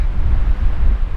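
Steady, loud wind roaring and buffeting the microphone, a continuous low rumble with no pauses.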